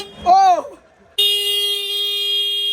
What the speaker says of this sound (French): Cet enfant qui a trouvé un klaxon de camion de travaux, tractopelle